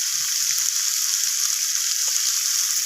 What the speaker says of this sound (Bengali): সমস্ত কিছু মশলা এইভাবে নাড়াচাড়া করে আমি কষিয়ে নিচ্ছি